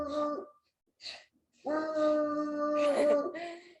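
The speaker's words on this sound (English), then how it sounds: "Maybe quiet the barking" A dog howls and whimpers in drawn-out, tonal wails, with a short pause between a few brief yelps and a longer sustained howl.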